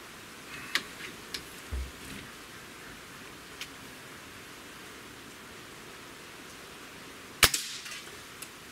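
A Hatsan Torpedo 150 Sniper air rifle fires a single sharp crack near the end, standing alone over quiet background hiss with a few faint ticks earlier.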